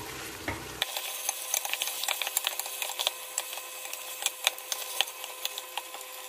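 Meat, onion and black pepper are turned together in a pot for Tunisian couscous, with a continuous run of quick scraping and ticking clatters from the spoon against the pot, close and steady with no talk.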